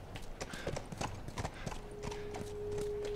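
Horse hooves clip-clop steadily in The Last of Us, a continuous run of close, even hoofbeats with a faint background tone.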